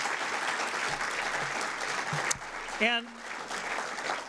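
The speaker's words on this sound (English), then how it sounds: "Give them all a round of applause," Audience applause at a city's annual state-of-the-city address, a steady broadband wash of clapping that fills the room for a couple of seconds before fading, with a speaker's voice coming back over it.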